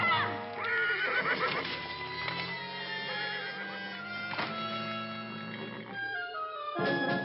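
A horse neighs repeatedly in a fantasy TV drama scene, with loud, close whinnies rising and falling against sustained dramatic music, and hooves faintly clopping beneath.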